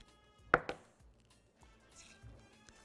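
Knife chopping on a board as four garlic cloves are minced, two sharp close cuts followed by faint softer taps, with no talk.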